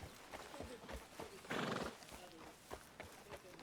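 A horse in a video game neighs loudly in a brief burst near the middle, with scattered hoof clip-clops and other game sounds around it.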